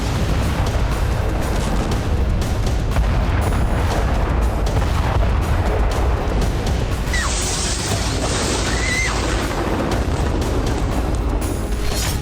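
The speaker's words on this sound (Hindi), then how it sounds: "कुछ इसी तरह कीव पर किंजल प्रहार हुआ" Kinzhal hypersonic missile strikes exploding across Kyiv during the Russia-Ukraine war, heard as a loud, unbroken roar of rumbling booms and crashing noise that fills the whole stretch.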